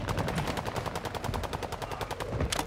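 Rapid automatic gunfire from the video game Call of Duty Modern Warfare rattles off in a steady, loud burst of evenly spaced shots lasting the whole stretch, with no talk over it.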